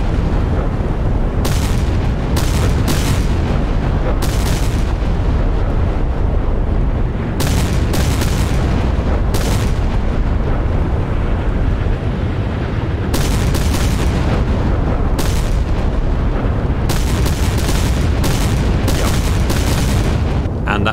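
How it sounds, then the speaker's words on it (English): Rapid barrages of small explosions and gunfire in a naval wargame as ships fight a tanker, loud dense booms with bursts of crackling fire coming and going over a constant rumble. "Lots of little explosions"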